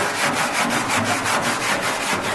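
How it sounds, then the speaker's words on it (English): A Jeep CJ7 body surface is scuffed by hand before a Monstaliner bedliner goes on: quick, steady back-and-forth rubbing strokes, close and even, with no talking. "now what we're doing is we're just giving all this a good scuff"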